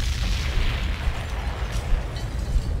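A bomb explosion sound effect, a dense continuous rumbling blast with heavy low boom and crackling texture throughout.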